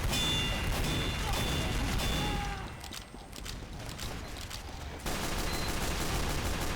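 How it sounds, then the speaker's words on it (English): A rapid-fire rocket launcher in Team Fortress 2 during a Payload match, with dense, loud volleys of blasts and booming impacts. The firing dips briefly in the middle, then comes back strong. "There's the new rocket launcher. Pretty sweet. It shoots like bunches of rockets."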